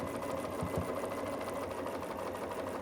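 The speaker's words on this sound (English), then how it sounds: "I'm going to stitch on both sides of the seam in all directions" A sewing machine runs steadily as it stitches a quilted Christmas stocking, a continuous close mechanical whir with a fast regular clatter and no pauses.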